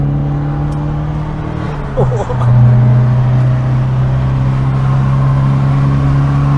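Engine of a 1968 Toyota Corona, a tuned car with extra power, pulling hard on a dual carriageway, a steady loud drone that swells and rises in pitch midway as it accelerates, with road roar underneath.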